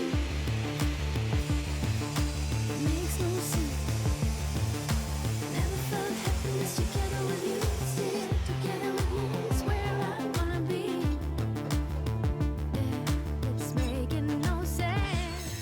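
A power saw cuts through four stacked metal profiles at once for a glass-and-metal partition, a continuous loud, harsh grinding whine with a pulsing low rhythm that runs unbroken throughout, close up with no talk.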